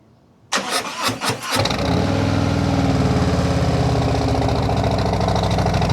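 A Harley-Davidson Road King motorcycle fitted with TAB 50 cal slip-on exhausts fires up from cold: a few stuttering cranks, then the engine catches into a loud, steady, deep idle that runs on alone.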